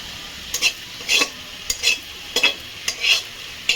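Chopped ingredients for chilli chicken fried rice fry in a pan, with a low sizzle under repeated scraping strokes of a spatula in an uneven rhythm, close and clear with no talking.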